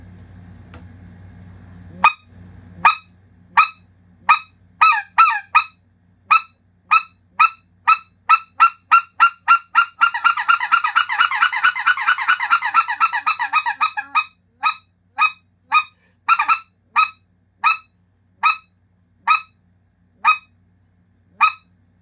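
A goose call blows sharp, nasal clucks, starting as single spaced notes, speeding into rapid doubled chatter, then easing back to single clucks; loud and close.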